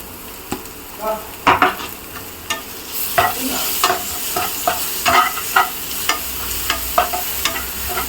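Crushed ginger and garlic sauté in a pan, a soft continuous sizzle broken by repeated scraping strokes of a spoon stirring, fairly close with no voices.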